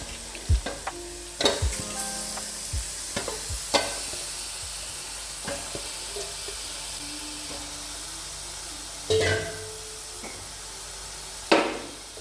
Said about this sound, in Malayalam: ആ പച്ചച്ചവ മാറിയ ശേഷം ഇതിലോട്ട് ചിക്കൻ ഇട്ട് കൊടുക്കുക.